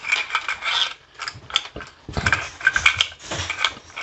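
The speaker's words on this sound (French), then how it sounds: "on va choisir la position de l'appareil et après on visse" A camera being screwed onto a Ulanzi U Grip Pro handle mount gives close, fast scraping and ratcheting rubs in short bursts with brief pauses.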